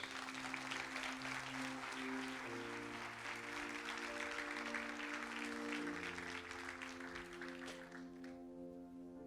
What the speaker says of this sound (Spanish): Si puede, dele un fuerte aplauso a Dios.